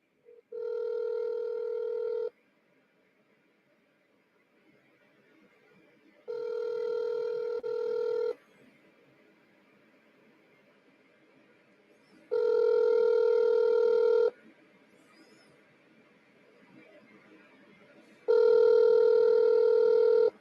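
A telephone call rings out with four long, evenly spaced electronic rings separated by quiet pauses, clear and fairly close with faint background hiss, no talk.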